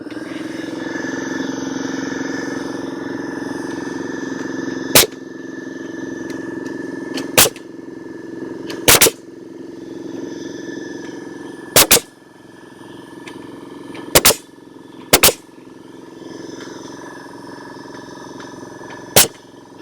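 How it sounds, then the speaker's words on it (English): Nail gun toenailing a wooden joist into a post, seven sharp, loud pneumatic shots fired a few seconds apart, some in quick pairs, over a steady engine rumble nearby. "we're going to go through and toenail the joist into the post"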